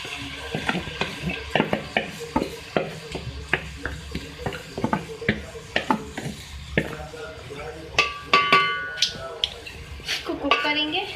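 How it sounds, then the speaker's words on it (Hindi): Marinated chicken pieces go into about half a cup of hot oil in a pan, giving a steady sizzle broken by frequent sharp clinks and scrapes of a spoon stirring against the cookware, close and busy. "इसमें मैरिनेट चिकन को मैं ऐड कर रही हूँ"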